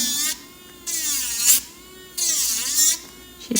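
An electric nail drill grinds away polygel on a fingernail, its high whine rising and falling in repeated bursts of a few seconds each, close and fairly loud with no voices.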